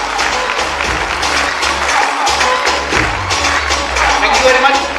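An audience claps together in a sustained round of applause for Mr. Anuj Sharma at a business leadership event, steady and fairly loud throughout.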